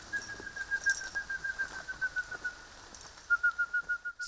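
A man whistles a bird call, imitating the green hylia, in a series of rapid, sustained whistled notes at a steady pitch, with brief bird-like replies and a faint outdoor background.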